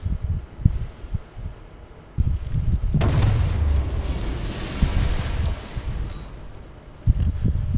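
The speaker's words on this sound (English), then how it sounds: "I need to be at a safe distance before I detonate" A deep explosion from a detonation in Batman: Arkham Knight booms out with a heavy low rumble that swells and lingers for several seconds before fading into ambient hum and low thuds.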